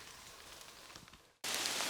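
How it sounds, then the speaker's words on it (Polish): Rain patters steadily in a pine forest, a soft even hiss that cuts off briefly and then comes back louder and closer, with no voices. "Pięknie zaczął padać deszcz, mi to w zupełności nie przeszkadza"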